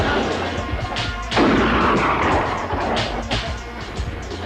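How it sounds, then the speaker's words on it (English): A shotgun loaded with rock salt fires one loud, sharp blast outdoors on a rural homestead, with a crashing burst and rumbling tail that fades under a steady background din. "What'd you shoot, Granny?"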